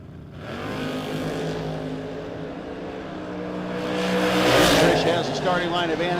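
Drag race cars, including a second-generation Camaro, launching at a No Box 660 Shootout event, engines revving and rising into a loud roaring surge with a commentator talking over it.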